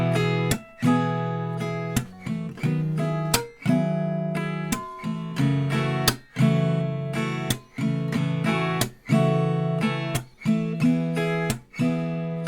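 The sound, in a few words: acoustic guitar strumming chords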